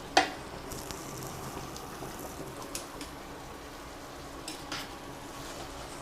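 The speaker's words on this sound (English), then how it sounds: "At the same time I keep mixing my pasta." Pasta with pumpkin mash being stirred in a pan, giving a faint steady sizzle with soft scraping and stirring strokes and no talk.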